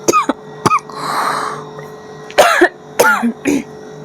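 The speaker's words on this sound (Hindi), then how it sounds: "थोड़ी खांसी हो रखी है।" A woman with a sore throat coughs and clears her throat several times in separate close, loud bursts with short pauses between them.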